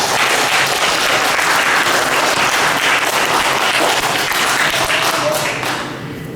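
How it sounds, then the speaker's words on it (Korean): A church congregation claps together during a Sunday worship service, a dense, steady wash of applause that fades toward the end. "한번 박수 한번 합시다"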